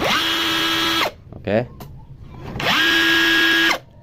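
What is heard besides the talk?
Kaelat cordless battery drill running at speed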